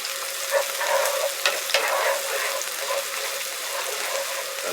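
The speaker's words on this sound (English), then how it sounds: "Alright, get my shallots in there. I got it on medium-high heat." Shallots fry in a pan over medium-high heat, a close, steady crackling sizzle with a few sharper pops and light stirring scrapes, no talk over it.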